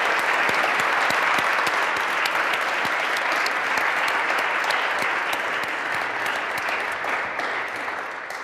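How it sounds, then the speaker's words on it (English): A large audience at a Harvard author event gives sustained, dense applause for author Jodi Picoult, a loud, even wash of clapping that fades slightly toward the end. "let's just give Jodi a big round of applause for all of these awesome answers"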